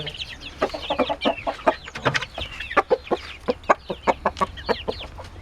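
Rize Indian chickens cluck and squawk close by in quick, overlapping bursts in a coop, a busy, continuous barnyard chatter with a rooster among the hens.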